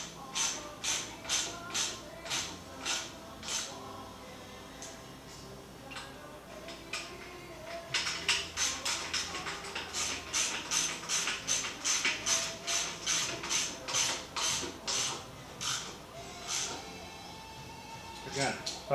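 A ratchet torques down bolts on a bolt-on rake kit suspension install, giving repeated crisp clicking strokes in steady runs with a pause in the middle, close and fairly quiet.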